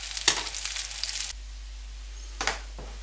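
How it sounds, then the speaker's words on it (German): Fish burger patties sizzle and crackle as they fry in hot oil. The noise is busy for about a second, then drops to a quiet hiss before a short second burst. "die lassen wir jetzt erstmal ein bisschen brutzeln"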